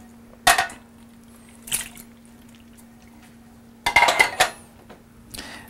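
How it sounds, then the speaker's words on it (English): Drained canned mandarin orange segments tipped into a bowl for a Thanksgiving dish make a few separate wet, clinking thuds, two brief ones early and a louder cluster near the end, close by and alone over a low steady hum. "dump it into your bowl like so"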